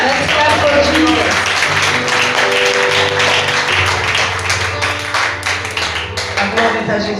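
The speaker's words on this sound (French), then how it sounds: "Let's clap for Jesus" A church congregation claps along during a worship service, a steady wash of many hands striking together under music and singing that carry throughout.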